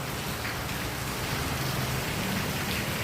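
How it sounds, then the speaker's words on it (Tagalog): Heavy rain pours down steadily, a dense, constant hiss of drops drumming on surfaces close by, with no voices over it. "Lakas ng ulan"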